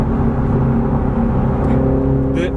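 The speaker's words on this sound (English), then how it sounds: "The exhaust sound on this thing is just perfect." A BMW Z4 sDrive30i G29 roadster on the move, its engine and exhaust a loud, steady droning hum with a slight rise in pitch near the end.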